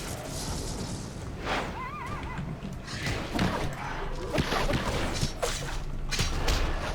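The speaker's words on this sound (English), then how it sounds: "Oh yeah, there's an actual like horse around here." A horse whinnies in the online fantasy game RIFT, a rising, wavering neigh rising above busy game ambience with thuds and swishes, while someone talks at times.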